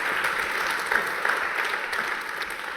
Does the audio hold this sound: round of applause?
yes